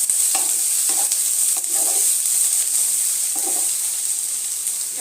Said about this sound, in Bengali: আদা রসুন দিয়ে পেঁয়াজটা আরেকটুখানি ভেজে নেবো